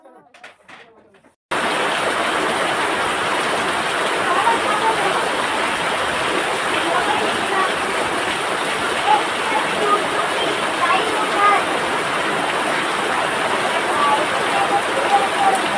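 Heavy rain pouring down in a rural village setting, a dense, steady roaring hiss that starts abruptly after a brief quiet moment with faint sounds, then continues loud and unbroken.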